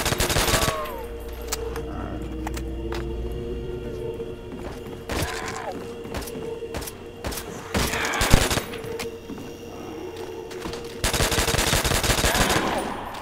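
Machine gun fire in Call of Duty Nazi Zombies, repeated loud bursts of rapid automatic shots with gaps between them and softer game sounds in the pauses.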